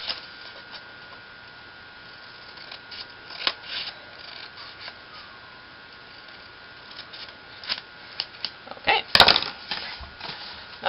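Scissors cut paper for a handmade travel mini album, giving scattered faint snips and crisp clicks at close range over a quiet room, growing busier near the end with one sharp louder snap.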